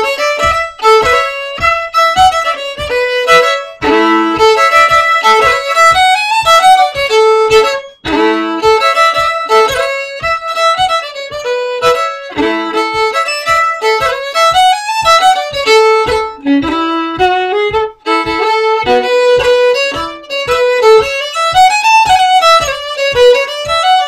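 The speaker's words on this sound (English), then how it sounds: "I'll just play the whole Strathspey that we're about to learn." Cape Breton fiddle playing the Strathspey Lord Alexander Gordon's, a solo tune with a bright bowed tone and a steady, snappy rhythm, close and loud throughout with no talking.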